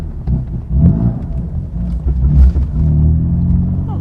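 BMW F82 M4 with a manual gearbox pulls away slowly, its exhaust giving a deep, steady low rumble that swells briefly with the revs. The sound is close and loud, with no talk over it.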